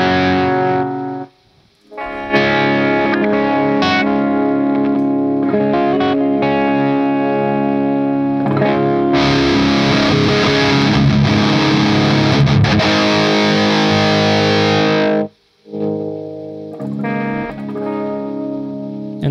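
High-gain electric guitar through a NAM amp profile with no noise gate, loud distorted chugging riffs with a denser wash in the middle, brief dropouts where hiss lingers, no talking.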